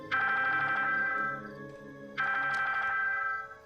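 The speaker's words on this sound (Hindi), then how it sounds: "रॉइस का फोन" A telephone rings in two long electronic bursts separated by a short pause, loud and close, with no voices.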